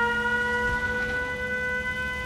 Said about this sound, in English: watch what happens when we activate our siren.